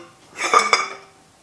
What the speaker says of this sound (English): Once you hear a crack like that, you'll be able to get it the rest of the way.